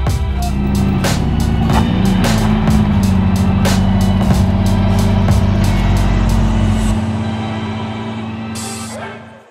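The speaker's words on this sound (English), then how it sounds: "Some more cars have arrived." Supercars such as Lamborghini Aventadors arriving at a gathering, a loud, close engine rumble with a deep steady drone, sharp bursts and revs, fading toward the end.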